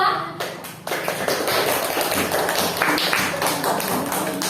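Students in a classroom break into applause for a presenting group, a brief sharp clap at the start then a sustained, close, dense clapping that continues evenly to the end.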